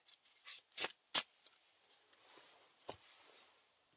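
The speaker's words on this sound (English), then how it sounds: "is shuffled into the encounter deck" A few crisp riffling bursts of playing cards being shuffled during a Lord of the Rings card game, clustered near the start with one more later, fairly close and otherwise quiet.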